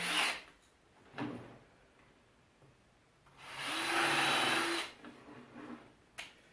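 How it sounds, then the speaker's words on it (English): A power drill whirs in two bursts, pre-drilling wood for a miniature picnic table, a short one then a longer steady spin, with clunks and handling noises between. "Let's pre-drill a little real quick."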